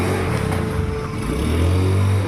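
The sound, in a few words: repaired Honda motorcycle engine running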